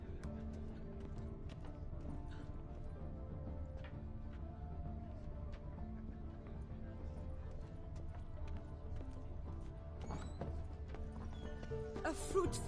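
Horse hooves clip-clop steadily alongside occasional neighing and whinnying in The Witcher 3 game, set over a continuous ambient music and crowd bed, with a brighter burst near the end.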